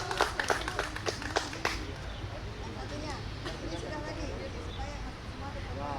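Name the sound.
audience clapping hands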